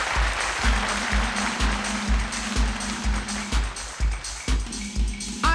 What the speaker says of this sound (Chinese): 赶快掌声给他鼓励一下。